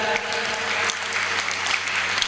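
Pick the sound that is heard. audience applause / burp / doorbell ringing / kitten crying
audience applause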